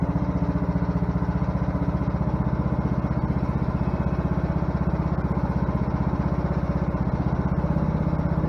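A nearly 50-year-old Kohler engine on a lawn tractor idles as it warms up, a steady close-up chugging drone with an even rapid pulse throughout and no other sounds.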